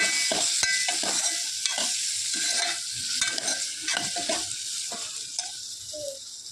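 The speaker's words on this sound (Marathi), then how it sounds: "आता आपण सगळं एक एकदम मला हलवून घेऊ" A spoon scrapes and stirs through moong dal and spinach in a sizzling pan, rhythmic strokes over a constant frying hiss, with no voices.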